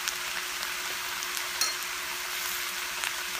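Onions fry in a pan with a steady, close sizzle and a few soft scrapes of stirring. No voices are heard.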